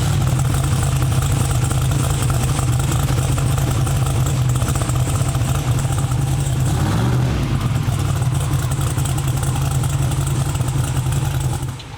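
Turbocharged SML engine running loud and steady at idle throughout, with a brief rise and fall in pitch as it revs midway before settling back.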